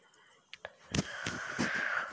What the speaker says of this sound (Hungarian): Volt ott valahol valami madár